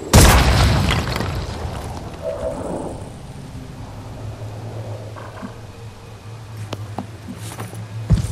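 Soldiers open fire in the video game XCOM 2: a loud, sharp gunfire blast at the start fades into a low steady hum, with a few brief sharp pops near the end.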